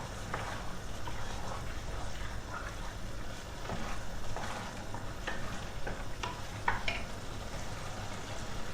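Rice is stirred into mushrooms frying in a pan for a Bulgarian pilaf, giving a continuous sizzle with scraping stir strokes close by, while a voice speaks softly underneath.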